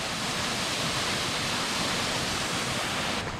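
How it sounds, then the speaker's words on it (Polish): A powerful waterfall near Vatnajökull glacier in Iceland roars as a dense, unbroken wash of falling water, loud and close with no other sounds. "Wodospad."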